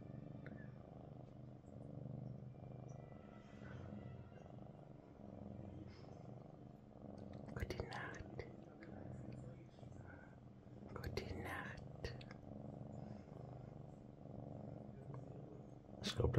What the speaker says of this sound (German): Oh, da fängt er an zu schnurren.